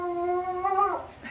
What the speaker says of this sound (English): wonderful, absolutely amazing pets, these dogs